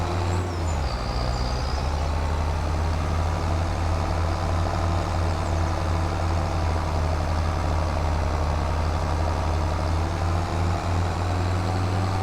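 Tractor engine in Farming Simulator 25 labouring up a hill, a steady, loud low-pitched drone with a constant deep hum that holds without pause throughout, no talk over it.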